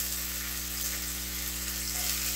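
Chopped ginger fries in a little oil in a pan as the start of a soup, with a steady, close sizzle running unbroken throughout and no talking.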